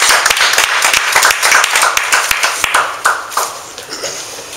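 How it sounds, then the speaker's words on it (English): Audience applause at a networking meetup, a burst of sharp, dense hand claps close by that thins out and fades over a few seconds. "Let's give Elias a round of applause."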